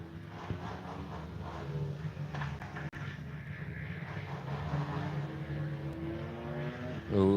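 Two-stroke minibike engines on a race track, a distant continuous droning buzz with rising and falling pitch as bikes pass, faint throughout, with a louder pass at the end.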